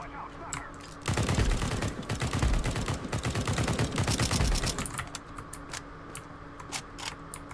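SIG rifle fire in Counter-Strike 2, a loud rapid automatic burst lasting about four seconds, followed by quieter clicks and in-game ambience.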